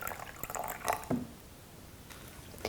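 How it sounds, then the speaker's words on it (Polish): Water poured into a baby bottle warmer, about 40 ml: a few soft drips and splashes, brief and fairly quiet, with a small trickle near the end. "Biorę sobie teraz wodę, wlewamy około 40 ml wody."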